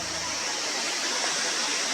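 A roadside waterfall in Bhutan pours in a steady, dense broadband rush that fills the whole moment without a break, close and continuous with no voices over it.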